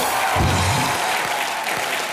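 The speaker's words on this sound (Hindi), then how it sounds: "एक बार मिस्टर अभिषेक बच्चन के लिए जोरदार तालियां।" Studio audience clapping for Abhishek Bachchan on a comedy show set, a brief even burst of applause close and steady throughout, with faint crowd noise.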